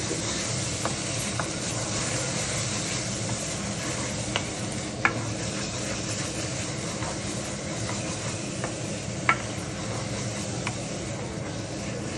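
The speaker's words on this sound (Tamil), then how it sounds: "நல்லெண்ணெயில் ஃபுல்லாக வெங்காயமும் பூண்டு" Onions and garlic frying in a generous amount of sesame oil with mustard seeds, a steady dense sizzle throughout with a few faint clicks from stirring.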